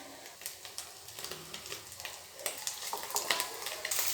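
Basmati rice is stirred into egg fry in a hot pan for egg fried rice, with a close, steady sizzle broken by repeated scraping and tossing clicks that grow louder and busier toward the end.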